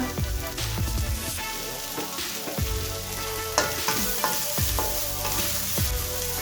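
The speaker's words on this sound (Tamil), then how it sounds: "அதுக்குள்ள வெங்காயத்தையும் போடுறேன். இது வதங்காட்டும்." Onions and green chilies sautéing in a pan, a steady close sizzle with recurring scrapes and stirs of the spoon against the pan throughout, alongside a continuous tonal backing.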